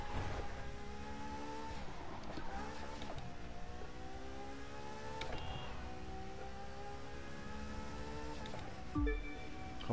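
A Ferrari engine in The Crew 2 racing game, played on a steering wheel, holds a sustained rising and falling rev with harmonic whine, fairly loud and steady, with no talking.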